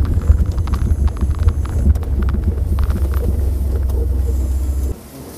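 A car's ZMZ 406 engine running Mikas 7.1 firmware coasts after a run to 100 km/h, a low droning rumble under wind and road noise that suddenly drops quieter near the end.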